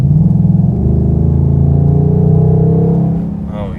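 A 2021 Ford Mustang Mach 1 with a 10-speed automatic accelerates under throttle, its loud, smooth engine drone climbing in pitch for a few seconds before easing off near the end.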